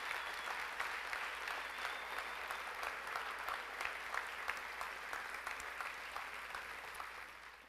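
Warm audience applause at a mayor's dinner in Victoriaville honoring the city council, a dense continuous clapping from a large crowd lasting several seconds, heard on its own without speech.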